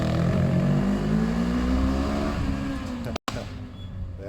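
A Suzuki GS500 two-cylinder motorcycle engine revs up loudly close by, its pitch climbing and then easing back as the revs drop. A brief cut interrupts the sound near the end.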